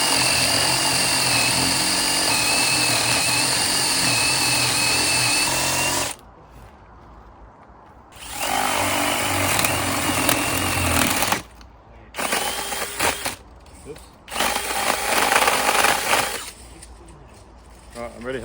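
A power drill boring a hole for a pipe, with a steady loud whirring for about six seconds, a pause, then several shorter bursts of drilling. Voices come in faintly between the runs.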